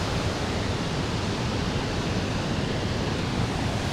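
River water rushing steadily at Zouch, a continuous broadband roar close by with no breaks, no voices.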